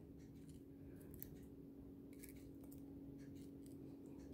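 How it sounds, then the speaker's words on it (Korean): Scissors snip plastic banding into a sawtooth fringe, with light, faint, irregular cutting clicks over a steady low hum and no talk. "가위집을 내서 톱니 모양으로다가"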